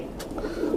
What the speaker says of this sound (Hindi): तो ये सारे कबूतर है भाई जो ये बैठे हैं।